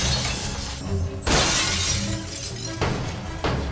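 Glass shatters loudly in a movie scene, a sharp crash at about 1.3 seconds followed by more breaking bursts later, with a busy soundtrack throughout.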